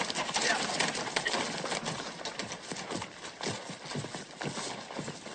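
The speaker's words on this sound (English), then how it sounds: "you reckon that's Billy the Kid's horse, sure enough" A horse's hooves clip-clop at a steady walking rhythm, close and fairly loud, in an outdoor Western setting with birds cooing in the background.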